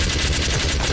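Automated sentry gun in a Team Fortress 2 animation firing a dense, rapid burst that runs for the whole second, loud and close.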